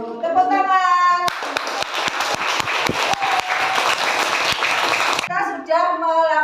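Classroom clapping at an elementary school lesson, a burst of many hands applauding together for about four seconds, dense and sharp, with a teacher's voice speaking just before and after.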